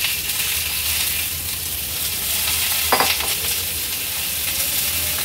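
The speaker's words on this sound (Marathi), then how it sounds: "व्यवस्थित काचऱ्या आपल्याला परतून घ्यायच्या" Thin-sliced potatoes sauté in oil over a low flame, a steady close sizzle with a brief scrape of stirring partway through.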